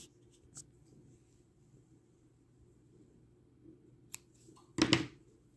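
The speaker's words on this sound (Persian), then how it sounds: "نخم رو قطع میکنم" Scissors snip through crochet yarn close up: a few faint ticks, then one sharp, loud cut near the end in an otherwise quiet room.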